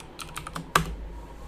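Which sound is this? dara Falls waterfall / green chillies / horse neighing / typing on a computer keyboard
typing on a computer keyboard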